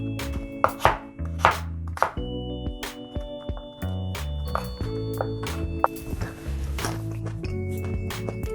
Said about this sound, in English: Next, I'm gonna matchstick these carrots.